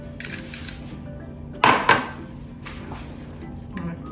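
A spoon stirs pasta salad with applesauce in a bowl, giving soft scraping and a couple of sharp clinks of utensil against the dish, close and moderately loud, with no speech.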